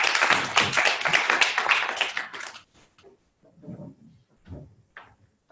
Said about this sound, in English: Have a clap.